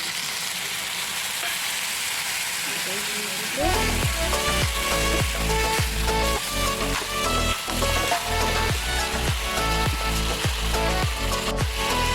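Chicken with turmeric, cumin and chicken masala sizzling in a pan after a little water is added, a loud steady hiss joined partway by rhythmic scraping stirs of a spoon against the pan.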